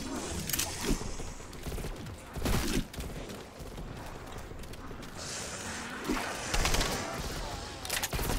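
Bursts of gunfire from the Call of Duty Cold War Zombies Firebase Z map come in several loud clusters with mechanical clatter between them, and a player speaks over the shooting.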